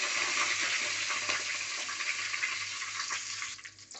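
Mustard seeds and curry leaves sizzle and crackle steadily in hot oil in a pan, a loud continuous frying hiss that thins out near the end.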